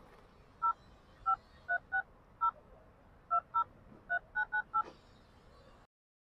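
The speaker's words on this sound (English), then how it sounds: "Then you can type your account number." Phone keypad DTMF tones as someone types a bank account number: about eleven short, clear beeps in an uneven rhythm, close and distinct over a quiet background with no talking.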